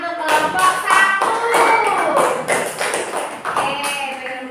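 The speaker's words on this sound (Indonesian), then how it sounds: "kita beri tepuk tangan untuk kelompok 1" Classroom applause, a dense burst of many hands clapping together for several seconds, loud and close, with voices mixed in.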